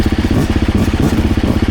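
A Beta 250 Race 2026 enduro motorcycle engine runs loud and close, its two-stroke firing pulses forming a steady rapid chatter with slight throttle variation throughout.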